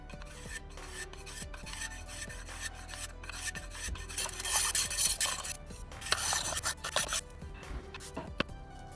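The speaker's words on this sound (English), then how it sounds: "using my box plane to round over the edges a little bit, get them roughed in." A box plane rounds over the edges of a walnut picture frame with repeated close, dry scraping strokes, a rasping rhythm that briefly intensifies in the middle.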